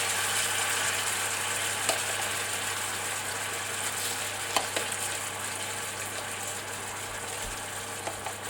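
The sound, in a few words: searing salmon bites in a hot pan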